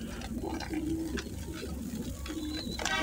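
Pigeons cooing softly, with low, repeated throaty calls coming from a few birds over a faint background murmur.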